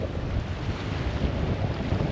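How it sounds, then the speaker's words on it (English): Strong wind buffeting the microphone in a dense low rumble at Filey Brigg on the seashore, with a broad wash of surf noise behind it and no voices. "I think it's because it's fairly windy here"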